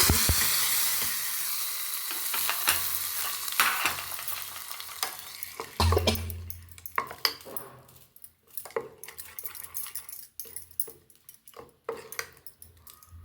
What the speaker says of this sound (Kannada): ಅದಕ್ಕೆ ಒಗ್ಗರಣೆ ಕೂಡ ಹಾಕೊಳ್ತಾ ಇದ್ದೀನಿ